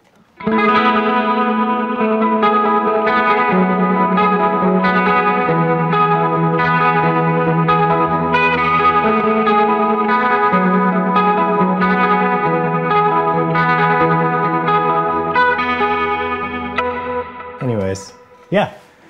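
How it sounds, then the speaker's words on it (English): An electric guitar through a lo-fi Line 6 Helix preset plays a sustained chord passage with wavering tremolo and vibrato, washed in reverb, loud and continuous before fading at the end. "it has that lo-fi sound, and it has trem, and it has that vibrato, and it has reverb"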